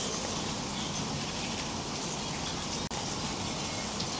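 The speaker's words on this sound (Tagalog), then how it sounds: "Grabe kayong ulan" Heavy rain pours down in a steady, dense hiss that stays constant throughout, with a tiny break near the end and no voices.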